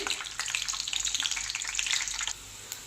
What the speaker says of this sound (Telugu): ఇందులో ఫస్ట్ మనం వేరుశనగ పప్పు వేసుకుందాం అది కొంచెం వేగాలి